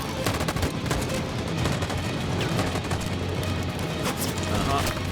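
Gunfire from the video game Detroit: Become Human, with heavy continuous automatic bursts and booms filling the mix without a break. Players talk over the shooting.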